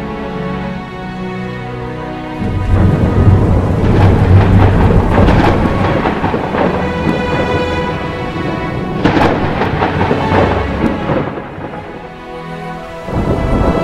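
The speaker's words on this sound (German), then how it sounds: "Naturgewalten eines Gewitters im afrikanischen Busch zu erleben, sind beeindruckend." A thunderstorm in the African bush in South Africa, with heavy rain hissing steadily and loud thunder rumbling through, swelling into a deep roll early on and again near the end, with no voices.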